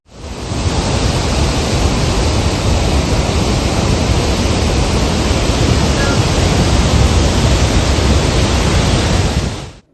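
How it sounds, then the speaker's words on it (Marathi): Sahastrakund waterfall in full monsoon spate, a dense, loud, unbroken roar of cascading water that fades in and out at the edges, with no talk. "सहस्त्रकुंड धबधबा पूर्ण जलवैभवात दिसत असून"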